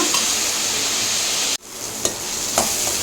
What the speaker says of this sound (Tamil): எல்லாமே வந்து கொஞ்சம் நேரம் இப்படி வதக்கிக்கோங்க.